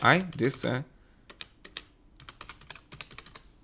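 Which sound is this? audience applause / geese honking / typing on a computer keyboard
typing on a computer keyboard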